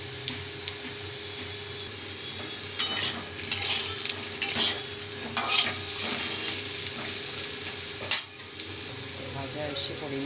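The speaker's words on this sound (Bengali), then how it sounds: "গোটা জিরেটা আলুর সঙ্গে ভেজে নেবো।" Whole cumin seeds fry with potatoes in a pan, a soft continuous sizzle broken by scraping stirs and light utensil clinks against the pan, close and fairly quiet.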